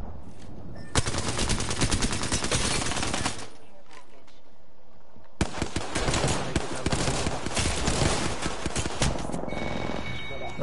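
Dense automatic gunfire from the Apex Legends video game, with two long bursts of rapid shots separated by a short lull, loud and close.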